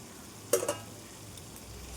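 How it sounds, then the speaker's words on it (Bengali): Taro stolons with onion and mustard stirred in a hot pan: a steady low sizzle broken by one brief scrape-and-stir burst, close by. "এটা এবার একটু কষতে দিতে হবে"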